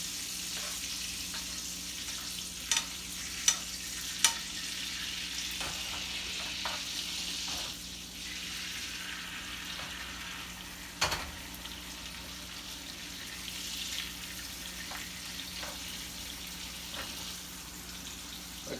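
Steak frying in a pan with thyme while being basted, a steady close sizzle throughout with occasional sharp pops and spatters, no talking.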